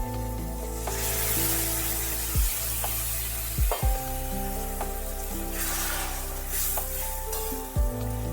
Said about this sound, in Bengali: আমি একটু ঈষদ উষ্ণ জল এর মধ্যে দিয়ে